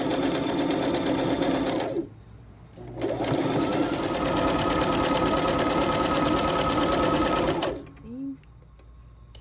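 A sewing machine runs steadily while stitching fabric for a shirred strapless dress, a continuous close whirring that stops briefly near two seconds, resumes, then cuts off near the end.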